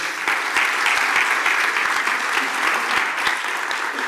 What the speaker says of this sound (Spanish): Fuerte aplauso para Ossi Jiménez.